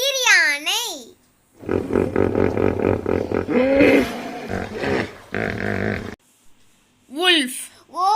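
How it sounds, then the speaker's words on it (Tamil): Deep, rough grunting and roaring of a hippopotamus, a long run of loud rumbling calls with a voice briefly speaking before and after. "Hippopotamus."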